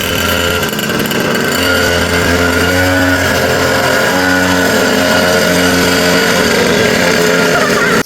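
A motorcycle engine drones steadily and loudly up close, with a continuous buzzing roar that shifts slightly in pitch.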